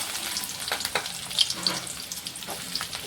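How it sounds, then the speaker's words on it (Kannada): Onion and garlic fry in oil for a cucumber palya, a quiet continuous sizzle broken by light irregular clicks and taps of stirring, fairly close. "ಈರುಳ್ಳಿ ಫುಲ್ಲು ಕೆಂಪಗಾಗತ್ತನ ಫ್ರೈ ಮಾಡ್ಕೊಳ್ಳಂಬ್ರಿ"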